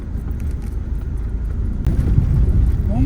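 A tricycle passes along a road in Sitio Pantay, Antipolo, Rizal, its low motor rumble growing louder toward the end amid outdoor background noise.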